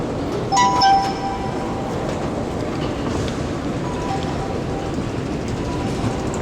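An old Soviet-era metro train in Tbilisi, built like older Moscow stock, gives a steady loud roar of rolling wheels and carriage rumble, with a few metallic clinks and dings near the start.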